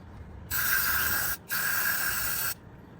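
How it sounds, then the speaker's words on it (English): Two bursts of aerosol brake cleaner spray hiss into a motorcycle brake caliper on a Yamaha R6, the first about a second long and the second about a second long, close and loud with a brief gap between them. "And then what you want to do is spray it again."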